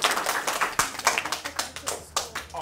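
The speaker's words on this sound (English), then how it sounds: "how about we give a nice round of applause to all of our speakers today" Scattered clapping from a small audience at a children's read-aloud event, a dozen or so distinct hand claps in uneven rhythm, fairly close and clear with no talk.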